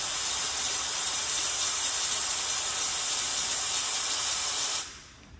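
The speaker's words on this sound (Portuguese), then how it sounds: "Se liga no vapor." A steam cleaner hisses steadily and loudly while cleaning a Fiat Uno Fire Evo, a constant close spray that cuts off abruptly near the end.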